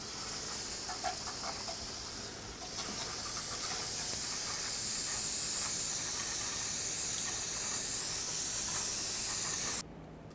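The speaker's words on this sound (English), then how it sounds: "spray some brake parts cleaner all over to get rid of all the dust, brake dust and debris" Brake parts cleaner hisses steadily from an aerosol can onto the brake area of a Chevrolet Express 3500 van, a close continuous spray lasting about ten seconds before cutting off sharply.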